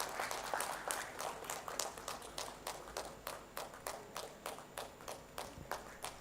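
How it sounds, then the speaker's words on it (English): Audience applause at the Odisha Tex 2025 launch event in Bhubaneswar, a steady wash of clapping from a large crowd in a hall with rhythmic peaks, continuous and moderately distant for several seconds. "That deserves a big round of applause,"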